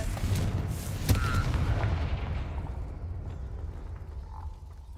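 A Confringo spell explosion in the Hogwarts Legacy video game: a deep, booming blast that fills the sound from the start and then rumbles and fades slowly over several seconds.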